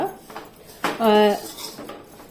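Dried prawns fried on a low flame are stirred in a pan, with a spoon scraping and clinking against the metal in a few close, loud strokes.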